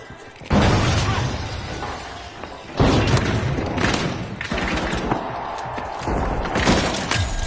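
A frag grenade goes off in The Finals, a loud blast with shattering debris that surges after a quiet half second, followed by further booming impacts and crumbling destruction in the game's chaotic fight.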